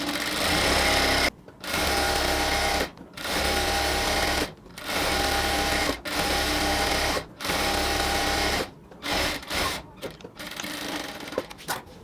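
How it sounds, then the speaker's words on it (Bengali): A sewing machine double-stitches salwar pant fabric, running loudly in steady whirring bursts of one to two seconds, broken by brief pauses and a few short choppy runs near the end. "সেই অংশটুকুতে আমরা হচ্ছে এখন ডাবল সেলাই দিব"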